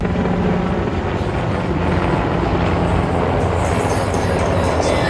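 A helicopter passing by, a steady loud rotor and engine drone filling the whole stretch without pause, slightly shifting in tone toward the end as it moves.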